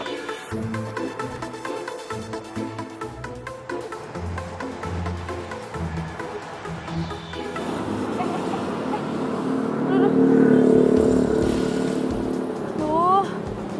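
A motorcycle engine idles and runs at a steady mid-level, rising somewhat louder toward the end, mixed with voices and background music.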